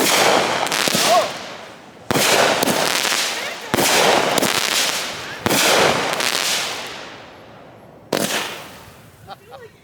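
Outdoor fireworks show with a series of loud, sharp booming bursts spaced about two seconds apart, each trailing off in crackling decay, with faint voices near the end.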